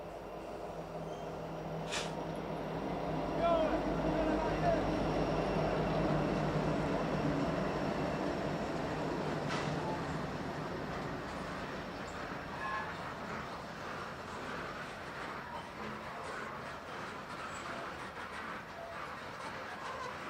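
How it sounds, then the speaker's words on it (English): A Canadian National unit grain train rolls through the Mississippi Delta on the Yazoo Subdivision, a steady low rumble of rail traffic that swells early and then slowly fades as the cars pass. "Unit grain train G886 will be ordered by dispatch to diverge into the siding."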